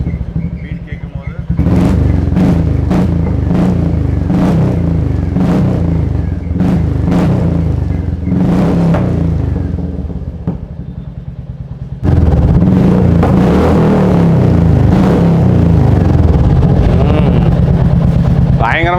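A Royal Enfield single-cylinder motorcycle fitted with an aftermarket silencer revs in a run of short, loud throttle blips, then settles into a sustained, deep, thumping exhaust beat, recorded up close.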